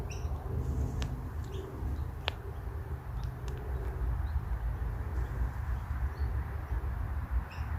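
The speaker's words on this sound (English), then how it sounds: "There's a bird up in the tree above me." A bird calls from a tree overhead in a cemetery, giving scattered short chirps and coos over a constant low outdoor rumble.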